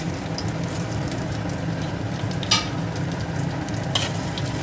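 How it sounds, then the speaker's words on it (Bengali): Cinnamon, dried chilli, cardamom, bay leaf and black cumin fry in hot oil for a pumpkin kofta curry, a steady close sizzle with a couple of brief louder crackles, no voices. "এবার বাকি তেলের উপর আমি এখানে দারচিনি প্রথমে দিয়ে দেবো, শুকনো লঙ্কা দিয়ে দেবো"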